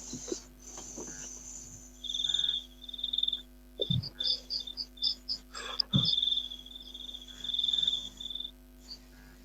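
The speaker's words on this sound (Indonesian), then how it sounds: "suara-suara jangkrik" Crickets chirp in a quiet night, with repeated high trills in pulsing bursts that are fairly faint and close. Occasional low thumps and brief soft voice-like sounds fall between them.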